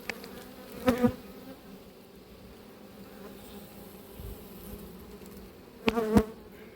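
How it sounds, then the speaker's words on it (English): Honey bees buzz at an apiary hive during swarming season, with a soft constant hum broken by two loud close buzzes as single bees fly past. "these bees have got to go somewhere, so they definitely need another box of super"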